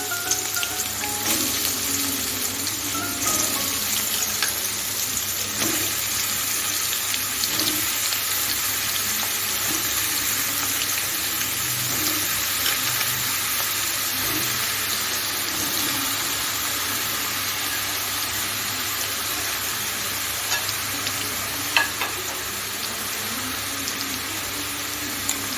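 Chopped ridge gourd added to hot spiced oil tempering in a pan, giving a steady, even sizzle and crackle that runs on continuously, moderately close, with no talking.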